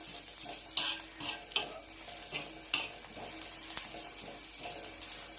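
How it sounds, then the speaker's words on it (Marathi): Chili paste with turmeric sautés in a pan with a soft, low sizzle, punctuated by gentle stirring scrapes at irregular intervals; fairly faint, no talking. "आता याला छान परतून घ्यायचं"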